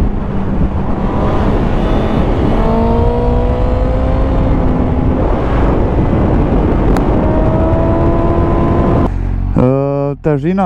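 The engine of a 2019 Suzuki GSX-S 750 motorcycle hums and whines steadily under the rider's voice, its pitch climbing and falling through tight corners with traction control off, before a louder spoken passage near the end.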